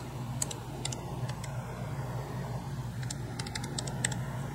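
Keys tapped on a graphing calculator while an equation is entered into the y-equals screen: a few clusters of light, quick clicks over a steady low background hum, close and fairly faint.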